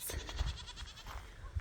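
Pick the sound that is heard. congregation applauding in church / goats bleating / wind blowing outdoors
goats bleating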